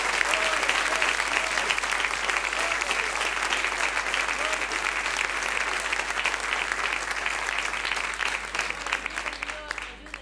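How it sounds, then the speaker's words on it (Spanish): A church congregation applauds during a Sunday service, a dense, steady wash of clapping that holds loud and even throughout, with some voices faintly underneath. "Un aplauso a él, mi hermano."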